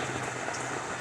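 Rain patters on a tent in a steady, dense hiss of drops, even and unbroken for about a second with no voices.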